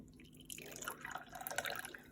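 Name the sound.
water being poured into a water filter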